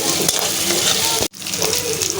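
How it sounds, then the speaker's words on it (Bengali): Garlic paste sautés in hot oil in a home kitchen pan, a loud, close, steady sizzle with a brief break midway before the frying hiss resumes. "রসুন বাটা রসুন রসুনটাকে একটু কষিয়ে নিব যেন রসুনের কাঁচা ঘ্রানটা চলে যায়"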